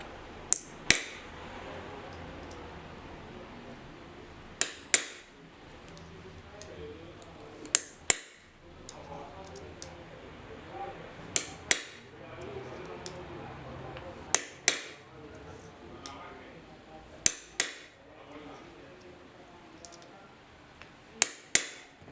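A stainless steel falconry bell is struck with an Allen key to tap a honeycomb pattern into it, giving sharp metallic taps that come singly and in pairs at irregular intervals over a quiet background.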